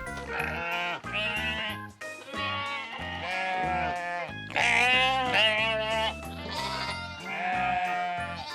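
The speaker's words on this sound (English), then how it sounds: "Sheep." Toy sheep bleating in repeated electronic tones from a walking farm-animal toy, loud and alone, with a jingly musical backing throughout.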